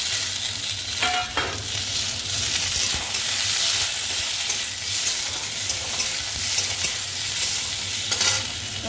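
Tomato and spices sizzle and fry steadily in a hot pan while a spoon stirs and scrapes through them, a continuous close hiss with occasional clinks and no talking.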